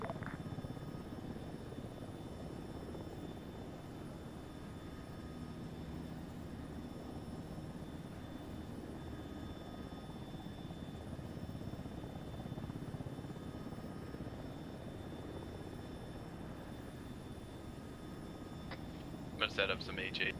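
A military helicopter in a simulation video game spools up at base, its steady rotor and engine drone loud and continuous throughout, with radio voices talking over it.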